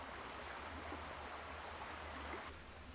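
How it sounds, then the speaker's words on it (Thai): A waterfall on a forest stream gives a steady, even rush of falling water, faint and continuous, with no voices over it. "มันเป็นน้ำตกแบบนี้นะทุกคน"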